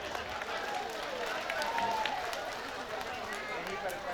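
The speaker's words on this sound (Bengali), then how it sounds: "তাদের জন্য একটা জোরে করতালি।" An audience at a reunion cultural program gives steady applause, a dense crowd clapping mixed with murmuring voices, moderately loud and sustained throughout.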